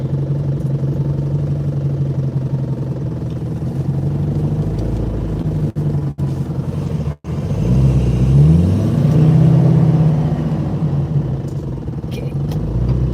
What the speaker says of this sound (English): clutch in, going into first.